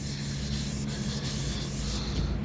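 Car paint is worked over by hand with 600 grit sandpaper, giving a continuous close scratchy rubbing with faint rhythmic strokes and no talk.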